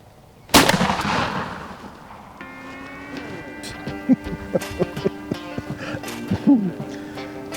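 A single loud shotgun blast fired at a wild turkey during a farm hunt, sharp and close, followed by fading echo and softer rustling and bird calls in the background.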